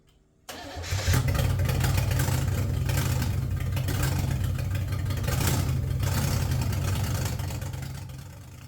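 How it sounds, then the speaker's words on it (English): A classic Pontiac Firebird Trans Am engine cranks and catches, then runs loud and raw with no exhaust attached, a rough heavy idle rumbling steadily up close. "let's see if this thing fires up"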